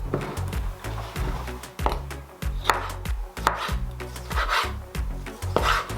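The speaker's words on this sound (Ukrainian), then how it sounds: "Тепер нарізаємо кільцями зелені оливки." A knife on a cutting board cuts green olives into rings for a lamb and orange salad, giving a string of close, sharp chopping taps in an uneven rhythm with nobody speaking.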